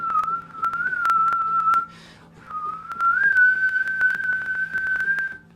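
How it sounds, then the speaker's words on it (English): A single clear whistled tone from people whistling at a ceremony is held steadily, breaking briefly in the middle before resuming, with faint background clicks. "Do a whistle if you feel called."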